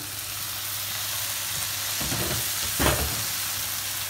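Vegetables cooking in a pan with a little vegetable stock cube added for stuffed cabbage, giving a continuous close hiss of sizzling and simmering, with a brief stir or clatter near the end.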